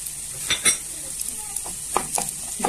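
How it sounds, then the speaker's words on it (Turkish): Onions and garlic go into a pan of frying mushrooms for a baked béchamel dish: a soft, quiet sizzle broken by a few scraping clicks as a utensil stirs against the pan. "Şimdi soğanlarımızı ve sarımsaklarımızı ilave ediyoruz."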